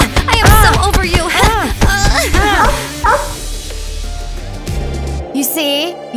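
A dog in a pet-adoption game yips and barks in quick bursts, then whimpers. The sounds are loud and close and are mixed with a person talking, and a brief musical or electronic tone plays at the end.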